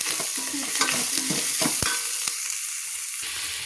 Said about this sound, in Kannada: ಒಗ್ಗರಣೆಗೆ ಹಾಕಿರೋ ಎಲ್ಲ ಈರುಳ್ಳಿ, ಟೊಮೆಟೊ ಎಲ್ಲ ಫ್ರೈ ಆದಮೇಲೆ